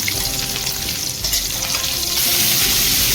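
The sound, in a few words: green chili and onion frying in oil used for fish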